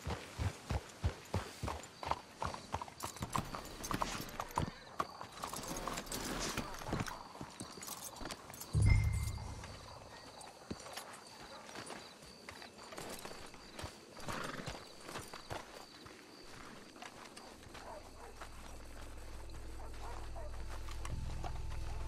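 Horses walk in the Red Dead Redemption 2 video game, steady hoof clip-clops thudding close by, with a neigh midway. The hoofbeats fade and a low rumble takes over, and people talk quietly over it.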